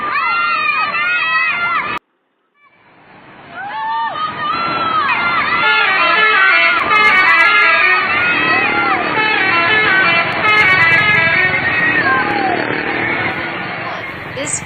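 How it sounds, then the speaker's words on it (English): A bus with a modified rhythmic telolet horn blares musical honks in repeated bursts, while a crowd of children and teenagers shout and cheer loudly around it. "the phenomenon in which children and adolescents ask the bus driver to honk the bus"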